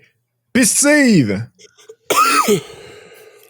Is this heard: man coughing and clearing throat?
yes